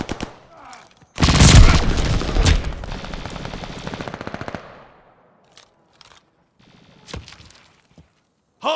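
In a Call of Duty: Vanguard match, rapid machine-gun fire erupts loud and close at a hardpoint in a dense burst, then thins into scattered distant shots and isolated cracks.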